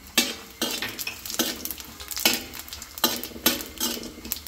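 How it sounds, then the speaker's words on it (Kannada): Cumin seeds, about a spoonful, tossed in a hot pan on the stove, giving bursts of dry crackling sizzle with stirring scrapes, several loud close strokes in an uneven rhythm and no talking. "ಅದರ ಬಾಣಲಿ ಬಿಸಿಗೆ ಅದು ಹುರಿಯುತ್ತೆ."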